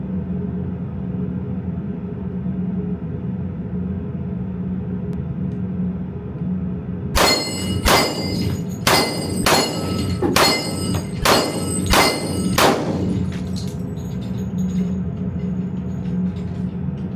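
Eight rapid shots from a Kriss Vector in .45 ACP ringing steel gongs at an outdoor range, loud sharp reports in a quick string after a long quiet stretch, fading into a rumbling tail.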